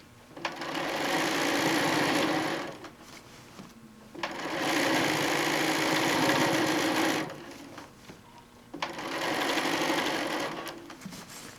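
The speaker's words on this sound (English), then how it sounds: "And sew through the quilt tack" A sewing machine stitches through a quilt in three long, loud runs of a few seconds each, separated by brief pauses, close and steady.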